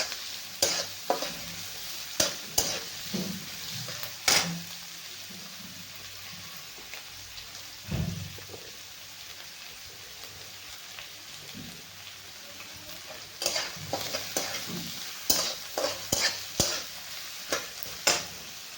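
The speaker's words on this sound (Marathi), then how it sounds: "कांदा चांगला गुलाबी होईपर्यंत आपल्याला भाजून घ्यायचा आहे" Onion fries in a pan until pink with a continuous crackling sizzle, and repeated spatula strokes against the pan come in clusters near the start and again toward the end; no voices.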